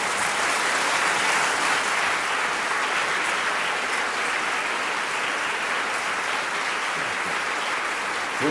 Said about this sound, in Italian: il vostro applauso dice già tutto